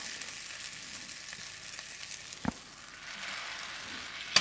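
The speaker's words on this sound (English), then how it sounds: "Okay, I'm gonna let these onions go one more round" Onions frying on a griddle for a patty melt give a steady broad sizzle throughout, with a sharp tap or scrape near the middle and another at the very end.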